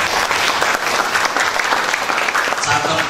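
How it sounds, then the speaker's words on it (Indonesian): An audience at a national seminar in Temanggung breaks into loud applause for the Pemalang branch, a dense burst of clapping that fills the whole moment. "Tepuk tangan buat cabang Pemalang."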